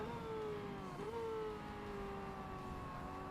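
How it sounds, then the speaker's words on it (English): A car engine in the racing game Forza Motorsport holds a steady, droning mid-pitched tone that dips briefly and then slides gradually lower. It sounds continuous and fairly loud, with no talking. "Engine sounds are a pretty hard thing to get right, though."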